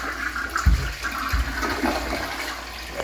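A toilet at a country inn in Berkeley Springs, West Virginia flushes close by, with a rushing, gurgling swirl of water and a couple of low thumps at the start, continuing steadily throughout.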